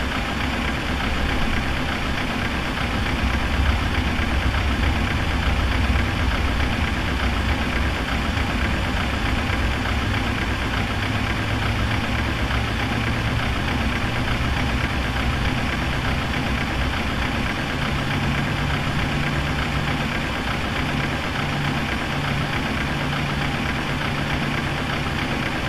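A PMDG 737-800 jet engine spooling up during start in the FSX flight simulator, a steady, dense mechanical drone with a low rumble that holds unbroken for about half a minute, without any talk.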